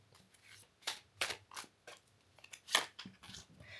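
Tarot cards drawn and handled during a reading about the Cecil Hotel, giving several sharp papery snaps and flicks spaced irregularly, fairly close and moderately loud, with no talking.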